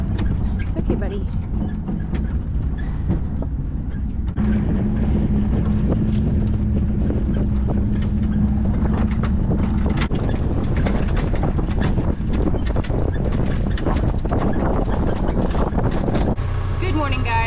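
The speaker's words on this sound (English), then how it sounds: "we are out in the field with the Kubota right now" A Kubota tractor runs in a hay field with a steady low engine rumble heard from inside the cab, buffeted by wind noise, while a person talks over it.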